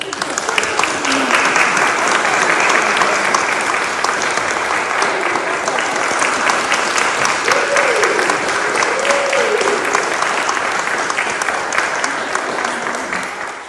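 A Protestant congregation at a Sunday service applauds steadily and loudly for over thirteen seconds, a dense, even wash of clapping with faint voices and a brief vocal sound in the middle.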